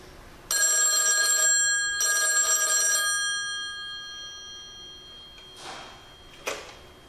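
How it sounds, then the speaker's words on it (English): A telephone bell rings in two long, loud metallic bursts close by, with a short gap between them, followed by quieter fading noise and a few faint clicks. "There was different ringing patterns utilized by the Bell system."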